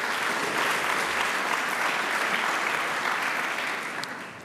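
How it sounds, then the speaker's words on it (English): A large evening audience at an anniversary event gives a sustained round of applause, dense and steady for several seconds before starting to taper off near the end. "So another round of applause for everybody that we've heard from so far this evening."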